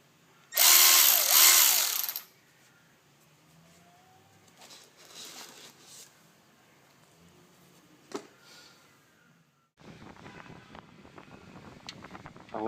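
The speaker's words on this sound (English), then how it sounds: "I'm going to try to loosen up a bolt that's never been loosened before with the FAR7000." Snap-on FAR7000 cordless ratchet working on a bolt that has never been loosened, a loud close whirring burst of under two seconds, then quieter mechanical handling noises and a faint fan hum in the background.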